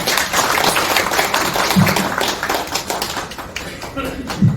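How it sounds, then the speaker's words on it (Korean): An audience at a Korean youth debate symposium applauds to welcome a speaker, a dense, continuous patter of clapping that fills the room, with a voice talking over it. "여러분 박수로 맞아주십시오"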